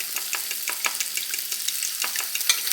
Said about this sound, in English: While my sausage is over here browning